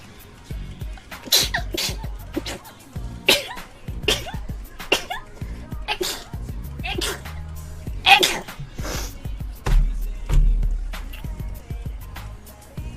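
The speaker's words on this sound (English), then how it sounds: "I need to sneeze." A rapid string of sharp, explosive sneezes bursts out one after another at close range, with some laughter-like sounds mixed in between them.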